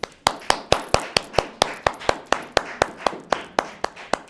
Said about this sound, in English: they were able to hear that round of applause